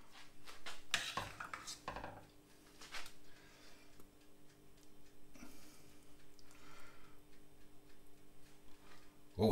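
Mushy peas get dished onto a plate at home as a side for breaded fish. Close, faint clinks and scrapes of a utensil against crockery come in short irregular bursts, with no talking.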